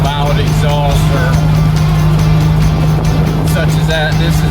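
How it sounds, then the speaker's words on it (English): A Volkswagen-based dune buggy engine idles through a header-type exhaust with a muffler built onto it, giving a loud, steady, close low rumble with a constant hum and no breaks. "more so a header type exhaust, which was good for the motor, but it also has a muffler built right on it"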